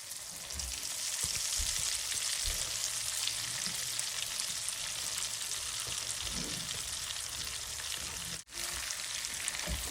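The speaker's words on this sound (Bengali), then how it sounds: "এখন আমি ঘিয়ের সাথে ডালটা ভালোভাবে ভেজে নিব" Lentils frying in ghee with whole spices, a steady close sizzle and crackle that runs continuously through the whole stretch, with a few soft stirring knocks and a brief dip near the end.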